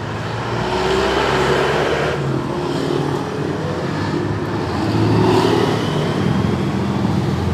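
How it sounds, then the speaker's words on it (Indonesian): A motorcycle engine, checked for a fault with black spark plugs and high fuel use, runs loud and close with a steady rumbling idle that swells slightly midway. "kemudian kita engkol"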